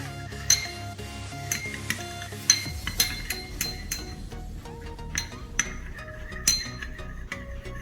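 A metal spoon clinks repeatedly against a cup while coffee is dissolved in a spoonful of water, giving sharp, bright taps in an irregular rhythm, close and clear, with no talking.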